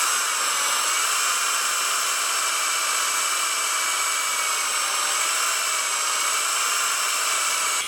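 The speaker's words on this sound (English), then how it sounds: "Now, this is a solid carbide drill." A solid carbide drill boring holes into an anvil stand, a steady high-pitched whine running continuously and loudly without breaks, with no one talking over it.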